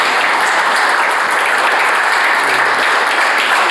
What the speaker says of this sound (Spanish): quiero pedir también un aplauso muy fuerte a nuestro coronel Roberto García Ríos